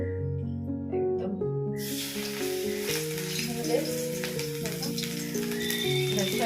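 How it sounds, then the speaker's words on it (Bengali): Coriander-leaf fritters made with whole sprigs sizzle steadily in hot oil, loud and continuous, with a melodic tonal background running underneath throughout. "ধনে পাতার বড়া ভাজছি"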